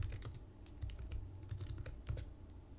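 Fingers type code on a computer keyboard in quick, uneven runs of close key clicks, some clusters faster than others, with no talking.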